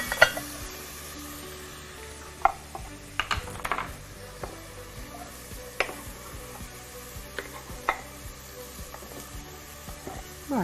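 Meat and onions fry in a pan with a soft, steady sizzle. Scattered clicks and scrapes of stirring break through it, and no one speaks.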